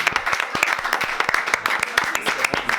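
An audience claps and applauds steadily at close range, dense overlapping hand claps throughout, at a youth group church cell meeting.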